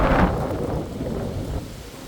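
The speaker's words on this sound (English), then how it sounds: "It's windy right now." A burst of wind rushes across the microphone in a deep, roaring gust that gradually eases off, with no voices.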